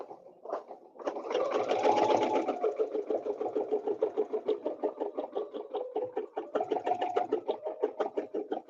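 A sewing machine quilts with a ruler, its needle stitching in a fast, steady run of close, even pulses that stays loud and near throughout with no talk over it.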